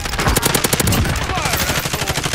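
Rapid automatic gunfire in the shooter Call of Duty: Modern Warfare, a loud, continuous stream of close-range shots firing in quick rhythmic bursts throughout.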